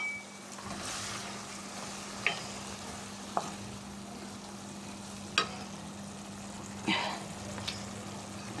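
Small fish, cauliflower and potato frying with turmeric and red chilli powder, a soft continuous sizzle with a low hum and occasional knocks of a spoon stirring the pan.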